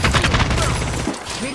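Rapid bursts of video game gunfire crackle loudly for about a second during a shooter firefight, then cut off abruptly, leaving quieter game ambience.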